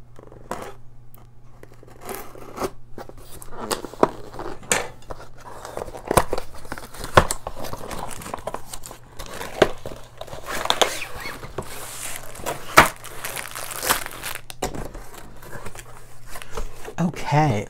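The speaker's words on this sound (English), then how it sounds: "let's get into the box here." Gift box being opened and unpacked, with intermittent cutting snips, tearing and crinkling of packaging close by, while someone talks over much of it.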